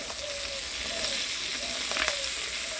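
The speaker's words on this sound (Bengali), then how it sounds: "পেঁয়াজ, কাঁচা লঙ্কা দিয়ে তেলটা ভালো করে ভাজা ভাজা করে নিলাম।" Onion and green chili frying in hot fish oil in a pan, a steady close sizzle and crackle throughout with faint scraping stirs, no voices.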